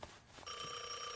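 In the Devil May Cry video game, a telephone bell starts ringing after a brief muffled noise. The ring is loud, steady and metallic, and it continues to the end with no talking.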